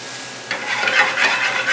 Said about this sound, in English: We're going to add into our pan our chiffonade of green onion.